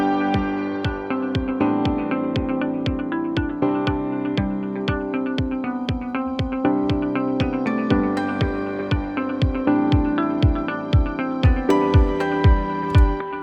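Corporate pop track in full mix, a soft grand piano playing steady repeated chords over bass and drums with a regular beat, loud and continuous throughout.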